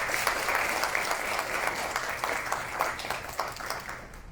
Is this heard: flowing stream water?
no